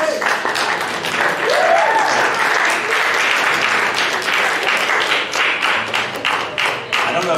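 A church congregation at a Sunday service applauds steadily for high school graduates called up front, dense clapping running throughout with a few cheers mixed in.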